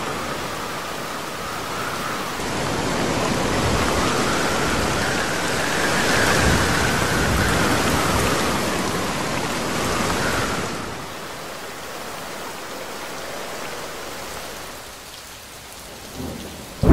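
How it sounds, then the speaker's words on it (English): Steady heavy rain from a thunderstorm in the game Jurassic World Evolution 2, a dense continuous hiss with a deep rolling rumble that swells midway, then eases to lighter rainfall. "Soon, it starts to rain."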